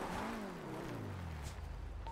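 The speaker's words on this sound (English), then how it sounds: "Oh, I hear a car, Charles." A car engine drives nearby in a video game, a faint steady motor hum whose pitch slides gradually downward as it passes, with a brief higher tone near the end.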